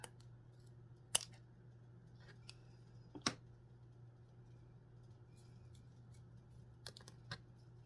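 Scissors trim paper in a few quiet, sharp snips spaced out over a faint steady hum, close and isolated with no talk.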